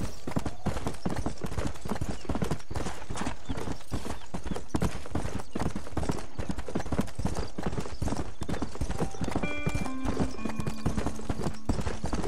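Steady, rhythmic hoof clip-clops of a horse in the video game Red Dead Redemption, close and continuous, with a brief tonal chime-like sound near the end.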